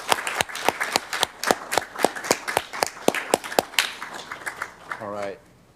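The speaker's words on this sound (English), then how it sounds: "Can we give them a round of applause, please?" Applause at a city council meeting after a marching drill demonstration: sparse, distinct hand claps ringing out in an even rhythm for about five seconds, then ending with a brief voice.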